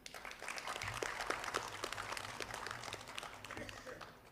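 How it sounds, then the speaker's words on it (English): Audience applause for Professor Uma Kanjilal at an Earth Day celebration, steady clapping heard fairly quietly from a distance with a faint voice underneath. "I urge everyone to give Professor Uma Kanjilal a hearty applause"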